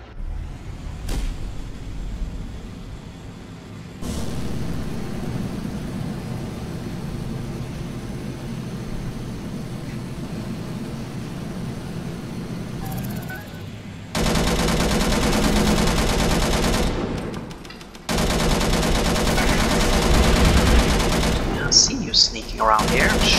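Rapid automatic gunfire in the video game Angels Fall First, fired at bombers, sustained bursts rattling in near-continuous blocks with brief pauses and droning aircraft beneath.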